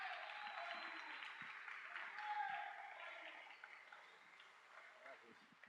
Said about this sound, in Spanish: quiero que deis especialmente un aplauso dende el ciño y muy fondo a Najasa